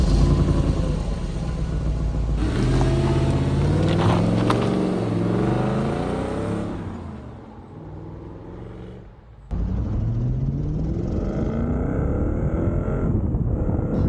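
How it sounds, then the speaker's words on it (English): An Audi S4 B6 Cabriolet with a manual gearbox and V8 engine drives along, its engine loud and close as it revs and pulls through the gears, with wind rush and a drop in revs at a gear change. "let's go for a drive"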